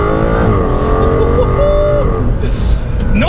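An Aston Martin DBS Superleggera with a twin-turbo 5.2-litre V12 accelerates hard, its engine note climbing through the revs inside the cabin, then easing off with a brief burst of noise near the end.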